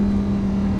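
A Lamborghini sports car engine driven fast, a loud steady drone with a strong low hum that stays constant throughout, heard from inside the car with no talking.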